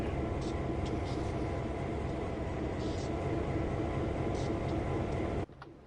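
A locomotive running in Train Sim World 5 gives a steady, dense rumble with a continuous broad roar, ending abruptly near the end into quiet.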